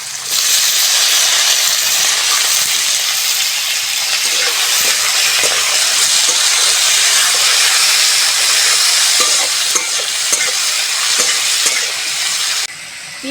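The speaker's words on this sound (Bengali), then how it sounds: "পেঁয়াজ আর টমেটোটা হালকা করে ভেজে নিয়েছি" Chopped onion and tomato fry in hot oil with nigella seeds and green chilies while cooking a cauliflower curry, producing a loud, steady sizzle with occasional stirring scrapes throughout.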